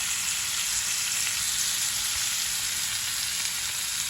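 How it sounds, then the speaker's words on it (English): Butter melts and sizzles in a hot pan with steak, a loud, close, continuous hiss of frying with no speech. "So I'm gonna just add just a little bit of butter on"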